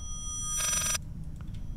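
A telephone rings once in the horror video game Layers of Fear, a short, bright electronic trill standing out over a low, rumbling ambient drone.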